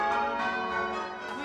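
Rich, sustained church bell tones overlap and ring out together at bell-ringing practice, a dense metallic chime with long decay and no voices.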